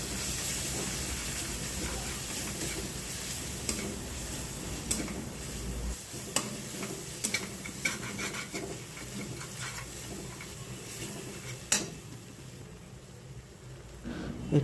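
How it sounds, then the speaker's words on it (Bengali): Meat curry with salt, chilli powder, turmeric and green chilli being stirred in a pot: quiet, intermittent scraping and rubbing over a faint hiss, with a low hum in the first few seconds. "একটু কাঁচা লঙ্কা দিয়ে আমরা এটা কিছুক্ষণ নেড়ে নেব।"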